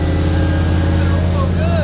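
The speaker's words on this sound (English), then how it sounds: "To everyone's amazement, the engine suddenly came to life." A Pontiac Firebird engine that sat abandoned for ten years runs at a loud, steady high idle, a continuous droning hum with no pauses.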